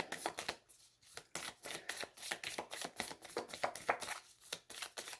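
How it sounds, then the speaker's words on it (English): Close, rapid riffling and slapping of playing cards being shuffled, in quick repeated bursts, with no talking. "One more shuffle."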